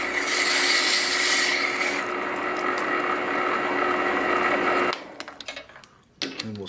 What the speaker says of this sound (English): I'm just going to touch this on the end and get rid of some of the burrs.